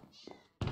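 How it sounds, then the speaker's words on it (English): A cat mob dies in Minecraft modded with Feed The Beast, giving a brief, close meow-like cry followed by a sudden loud thump. "Wow, cat's dying."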